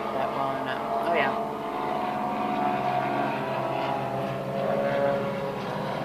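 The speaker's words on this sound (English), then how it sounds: "It's just non-stop planes." Propeller airplanes fly overhead near the EAA aviation gathering, a continuous droning engine hum that swells slightly and fades over several seconds, with faint voices in the background.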